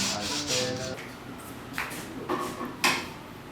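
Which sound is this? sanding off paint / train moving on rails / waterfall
sanding off paint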